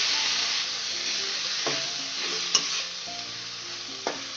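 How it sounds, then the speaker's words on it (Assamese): Chuka saak, sorrel greens, sizzles steadily in a hot pan while being stirred, with a bright continuous frying hiss broken by occasional scrapes and clinks of the spatula against the pan. "শাকখিনি অকণমান কোমলি যোৱালৈকে ভাজি থাকে"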